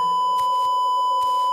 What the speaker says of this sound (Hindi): बड़े कैमरे से धीमी बीप की आवाज आई